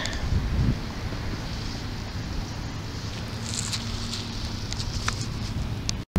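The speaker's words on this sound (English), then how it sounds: "A little bit windy today." Wind blows steadily across an open field where a metal detector is being used, a broad rushing hiss buffeting the microphone for several seconds, with a low thump at the start and faint scattered ticks later.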